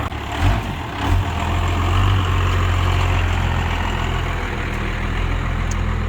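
Pickup truck engine idling with a trailer hitched, a steady deep rumble close by that swells slightly after the first second and holds constant, with no talk over it.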